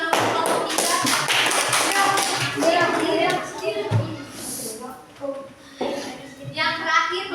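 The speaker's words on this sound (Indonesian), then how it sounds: "tepuk tangan dulu untuk kelompok" Classroom applause for a student group during an Indonesian-language lesson: many hands clapping in a fast, dense patter that fades, with children's voices and a teacher talking around it.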